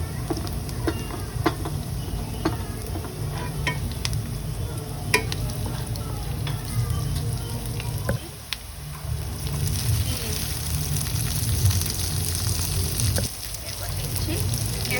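Chopped chili and carrot frying in oil for homemade pasta, giving a steady, loud sizzle throughout with spoon-stirring clinks and scrapes close up.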